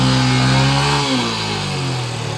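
Motorcycle engine on a mountain road, a loud close droning hum that holds steady, then shifts down in pitch as it eases off.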